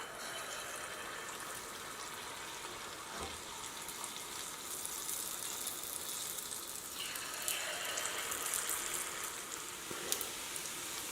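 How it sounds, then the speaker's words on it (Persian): Luqaimat dough balls deep-fry in hot oil, giving a steady, even sizzle that lasts throughout, fairly quiet with no talking. "من سعی میکنم بقیه این خمیر رو هم سرخ کنم"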